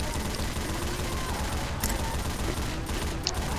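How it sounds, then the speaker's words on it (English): Sustained, dense gunfire from a minigun in Left 4 Dead 2, a fast continuous roar of shots lasting throughout, loud and close amid chaotic game noise with possible faint voices. "Get on the minigun."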